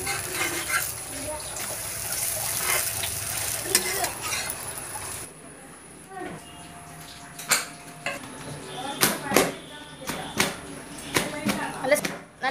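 Parotta flatbread cooking on a very hot griddle stone: a steady hissing sizzle fills the first several seconds, then gives way to scraping and metallic clinks of utensils, all under continuous talk.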